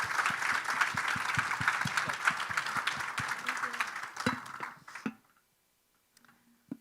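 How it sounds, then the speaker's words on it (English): Audience applause at an education workshop, rhythmic clapping with some distinct hand strikes lasting about five seconds before stopping abruptly, followed by a near-silence and a soft final tap. "Please, another applause to them so we can continue."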